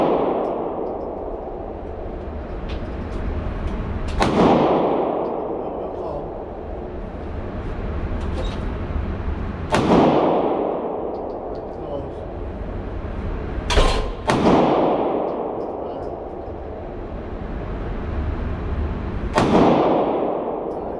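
Handgun shots fired left-handed at a shooting range: five sharp, loud reports spaced several seconds apart, each trailing off in a long ringing echo.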